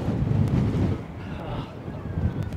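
Strong storm wind on the Blackpool seaside promenade during Storm Ashley, a loud, steady roar buffeting the microphone with rushing gusts and no voices.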